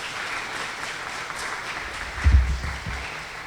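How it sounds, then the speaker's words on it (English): Fundraiser audience applauding as a dense, steady patter of many hands clapping, with a few low thumps partway through. "please give them a big round of applause for doing such a wonderful job"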